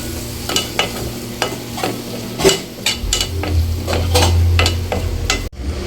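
Steady sizzling of tomato frying in a pan, with occasional sharp clinks and scrapes of a utensil stirring throughout.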